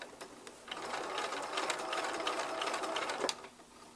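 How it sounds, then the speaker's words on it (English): A sewing machine runs a straight stitch about 1/16 inch from the fabric edge while sewing a flat fell seam, a steady continuous whirring hum lasting several seconds with a slight rise near the end, heard on its own without talk. "I'm sewing maybe 1/16 of an inch away from the edge of the fabric."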